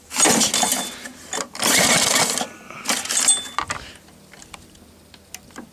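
An old, rusty Nautac lawn mower with a corroded deck and an unbalanced blade runs close by, clattering and rattling loudly in uneven metallic bursts before settling into fainter ticking knocks.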